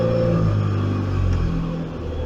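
A car engine with Speeduino idle control is raised to a higher rpm, a steady close mechanical drone with a slightly falling pitch and no speech.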